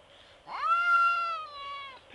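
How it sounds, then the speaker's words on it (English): A palomino cat gives one drawn-out, clear meow up close, a rising then slowly falling wail, alone against a quiet room. "Oh, it's a beautiful cat."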